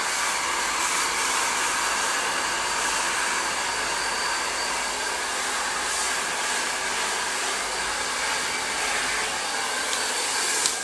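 A hair dryer blows warm air in a steady loud roaring hiss for the whole stretch while hair is styled with a round brush, with no speech over it.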